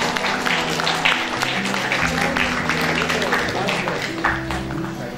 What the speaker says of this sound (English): A huge round of applause, my dear students.